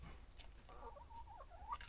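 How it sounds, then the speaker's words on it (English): A rooster on a rural countryside homestead gives a few short, faint clucks and warbling calls near the end, over a low steady background rumble. "Go the rooster!"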